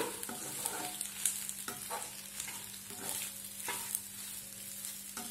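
Pasta with eggs and tomato ketchup being stirred in a pan, with repeated spoon scrapes and light sizzling in a loose rhythm over a faint steady hum, quiet and close, with no speech.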